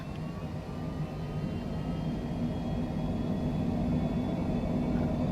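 A Cessna Citation Longitude business jet takes off down a long runway in Microsoft Flight Simulator 2024, a steady, even roar of jet engines with a low rumble and a faint rising whine.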